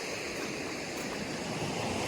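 Waves wash over the rocky shore of Batu Kukumbung beach in Cianjur, a steady broadband rush of surf mixed with wind buffeting the microphone, continuous and with no voices.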